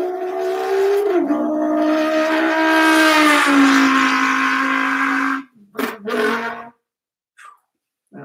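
A voice mimics a straight-piped Nissan 370Z exhaust, holding a loud, raspy engine drone that shifts pitch like gear changes for several seconds before breaking off into short bursts and quiet.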